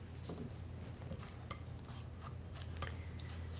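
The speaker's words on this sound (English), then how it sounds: "Give that a quick stir just until all our crumbs and soy nuts are nice and moist." Crumbs, soy nuts and melted butter stirred together in a bowl, giving a steady soft scraping and rustling with faint clinks of the utensil, close and continuous, with no talk.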